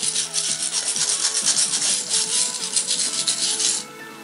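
Steady, close rubbing and scrubbing on a metal-plastic cross being cleaned, a dense rasping texture with quick repeated strokes that stops abruptly near the end, with no talking.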